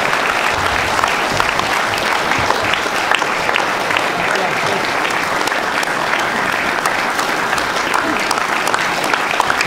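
Loud, sustained audience applause at the Boxers Ondernemers Trofee 2023 award ceremony for the Business to Consumer winners, dense rapid clapping from a large crowd continuing evenly, with some voices and cheers underneath.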